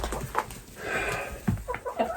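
Two chickens shut inside a trap give short, scattered clucks and squawks at close range.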